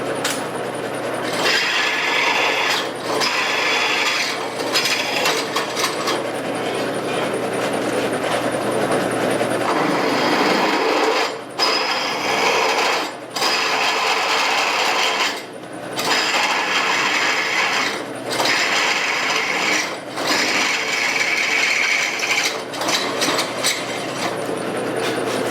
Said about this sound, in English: I'll get these drilled out while I can put them in the vise